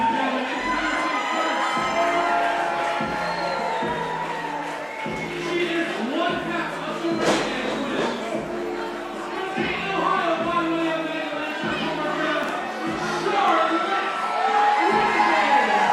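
Crowd at a pro wrestling debut show cheering, shouting and whooping loudly and continuously as a tag team enters, with rhythmic clapping or stomping beats and a commentator talking over it.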